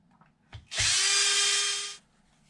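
A power drill fitted with a 3 millimeter bit, used on an Arrma Infraction RC car battery tray, gives a short click and then one steady high whir lasting just over a second, close and loud, before stopping.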